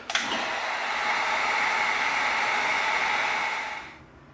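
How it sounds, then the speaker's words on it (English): A Dremel rotary tool grinds into EVA foam for a prop pistol, a high whine that spins up sharply, holds steady and loud for about three seconds, then winds down. "All right, so we're going to use our Dremel."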